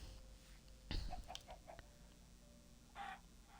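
Chickens in a cozy witch-themed shop-and-garden game clucking faintly in the background, a few short soft clucks and one brief thump scattered over quiet ambience.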